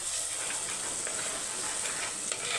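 Masala fries in oil for a village-style chicken curry, giving a dense, continuous sizzle close by with light stirring scrapes and no talk.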